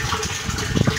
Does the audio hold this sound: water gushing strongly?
yes